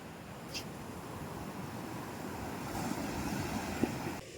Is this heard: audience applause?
no